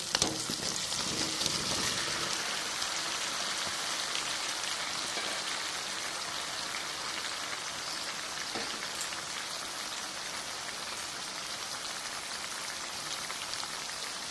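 Fried potatoes and jackfruit frying with masala over low-to-medium gas, a constant close sizzle with soft crackles running evenly throughout.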